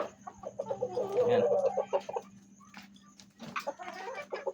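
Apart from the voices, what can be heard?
chickens clucking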